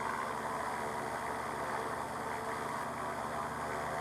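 A light sport seaplane's engine running at reduced power, a steady, moderately faint droning hum with no talk over it.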